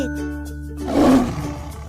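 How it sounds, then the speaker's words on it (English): A lion in a children's animal cartoon lets out a single loud, close roar that swells and then fades, following a brief tonal sound. "Lion."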